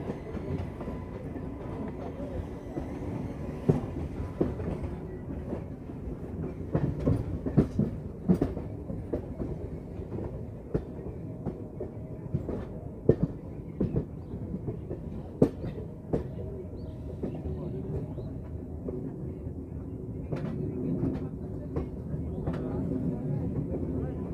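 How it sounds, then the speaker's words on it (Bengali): A local passenger train rumbles along the tracks between Ranchi and Purulia with an irregular clickety-clack of wheels over rail joints, a steady moderate roar heard from onboard. "আমাদের ট্রেন যাচ্ছে এখন কোটশিলা জাংশনের দিকে"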